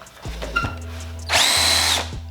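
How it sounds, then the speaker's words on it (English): A power drill spins up in short bursts: two brief low whirs, then a louder sustained high-pitched whine for under a second before stopping, close and alone. "The only thing you really need to have to make them work is a drill."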